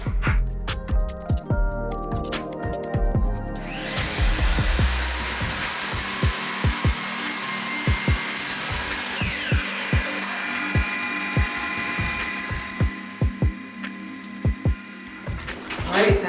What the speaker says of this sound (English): So I'm gonna go ahead and nail this one up now